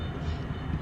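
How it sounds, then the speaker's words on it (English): A model tank train rolls past bridges and a crossing on a railroad layout, giving a brief, steady low rumble of wheels on track, close and even, with no talking. "while the tank train makes its way past the bridges and past the crossing."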